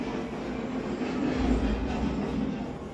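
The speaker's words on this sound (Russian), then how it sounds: "как бы показывается, что поезд шумит" A recorded train sound plays inside a museum exhibit at Schindler's factory in Krakow, a steady rumbling rail noise with rolling wagon clatter, fairly loud and continuous without talk.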